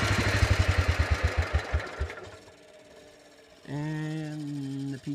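A Wheel Horse C-81 garden tractor's small engine runs with a loud, rapid pulsing that slows and dies as the PTO stops. A steadier idle then holds close and clear, with no talk over it.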